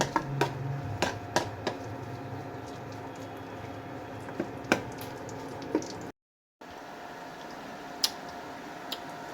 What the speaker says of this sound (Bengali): রসুনটা একটু হালকা ব্রাউন কালার আসবে, এটা এইভাবে নেড়ে চেড়ে নেবেন।